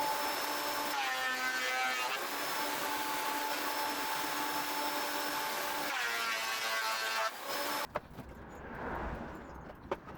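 An electric planer whines loudly and steadily across wood in two close passes, with a brief pause between them, then cuts off into quieter handling noise and clicks.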